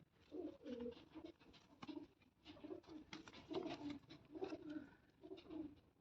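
Soft, rhythmic cooing comes from a pair of pigeons, a white-eyed female and a Cheena male, in steady low bubbling phrases, close up and faint, with no voices.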